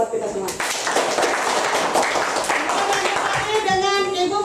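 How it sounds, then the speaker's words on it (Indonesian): Classroom group clapping at a teacher-training lesson, a dense spatter of hand claps filling the clip after a brief opening word, with children's voices mixed in. "Tepuk tangan dulu buat kita semua."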